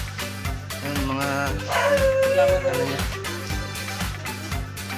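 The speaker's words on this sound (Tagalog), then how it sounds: "maingay yung aso, pasensya na" Dog barking noisily near a fish-keeping spot, a run of loud, repeated barks and yelps over a steady rhythmic background of music.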